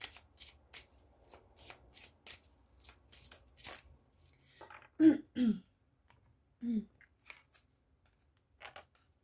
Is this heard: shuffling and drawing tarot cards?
yes